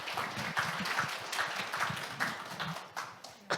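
Audience at a climate-policy conference on 2035 NDC trends applauds to welcome the next presenter: dense, steady clapping from a seated crowd fills the hall for a few seconds and then thins slightly toward the end.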